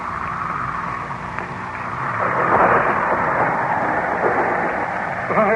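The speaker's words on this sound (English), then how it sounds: "The storm is increasing again." A storm sound effect in an old-time radio drama of Frankenstein, a continuous loud rumbling roar of wind and rain that swells midway with thunder-like surges and carries no speech.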